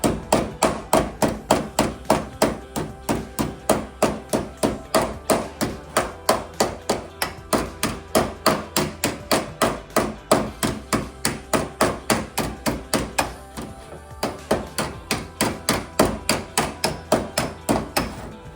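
Steady hammer blows flatten sheet metal on a new floor pan section of a 1968 Volkswagen Beetle, a close, loud, regular run of ringing metallic strikes with barely a pause.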